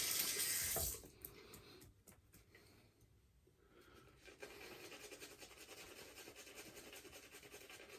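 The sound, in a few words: water running from tap while rinsing fingers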